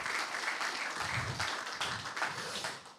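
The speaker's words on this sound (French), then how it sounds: "Je vous demande d'applaudir encore une fois nos intervenants." Audience at a round-table session of a digital industry conference claps steadily for the panel speakers, a dense, even wash of applause lasting throughout with no voices over it.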